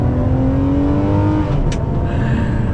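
Naturally aspirated V12 of a Ferrari 599 GTO revving hard from the driver's seat, a loud rising engine howl climbing in pitch with a brief sharp blip near the end.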